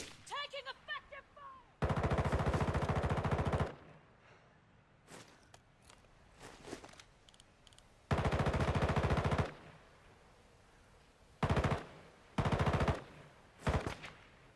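Automatic gunfire in the video game Call of Duty DMZ erupts in long, loud sustained bursts, then shorter sharp volleys and single shots, with quieter gaps of footsteps and movement between them.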